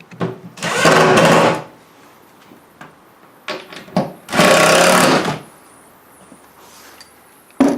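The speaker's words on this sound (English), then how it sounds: "so we're just going to drill those in." Two loud bursts of a power drill whirring as it drives screws, each lasting about a second, separated by quieter clicks and handling noises.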